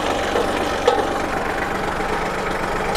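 A used Kubota or Iseki walking tractor engine idles steadily and close by, a continuous low mechanical drone with a slight bump partway through, no talk.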